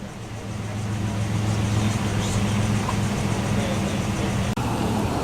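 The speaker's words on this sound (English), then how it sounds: "The Porsche is next to negotiate the speed hump of doom." A Porsche 911 rolls over a speed hump at a classic car show at Capesthorne Hall, its steady engine drone loud and close amid constant crowd and outdoor noise, with a brief dropout near the end.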